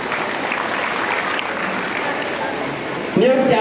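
Audience applause at a saints' gathering organised by Vishva Hindu Parishad and Bajrang Dal in Jamkhandi, a steady dense clapping that fills the whole stretch, swelling slightly louder at the very end.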